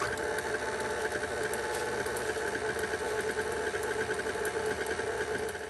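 Electric mixer running on low while mixing a homemade ice cream base, giving a steady close mechanical whir and hum with no break.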